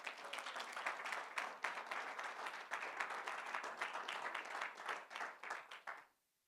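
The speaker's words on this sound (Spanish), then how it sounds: "Denle un aplauso al Señor" A church congregation claps loudly and continuously during a Sunday service, a dense, lively burst of hands that holds steady and then stops abruptly.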